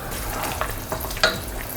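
Bamboo rice kheer sautéed in ghee in a pan over a medium flame, giving a steady soft sizzle with a few scraping stirs, close and alone.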